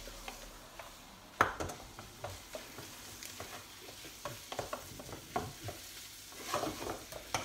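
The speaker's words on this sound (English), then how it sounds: "Stirring it." Tomato soup stirred in a pot on the heat, with a spoon scraping and tapping softly in irregular strokes over a low sizzle, close and quiet with no talking.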